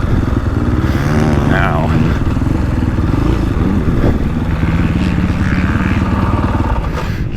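A KTM 450 Factory Edition dirt bike being ridden roars loud and close, its engine note rising and falling with throttle changes, while a rider's voice talks over the din.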